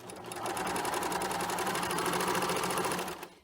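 A serger runs a quick test stitch on a scrap of fabric, a steady fast mechanical whir for about three seconds before stopping.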